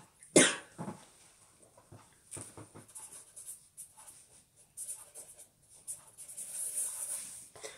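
A single sharp cough bursts out near the start, followed by quieter rustling and scratching noises with no talking.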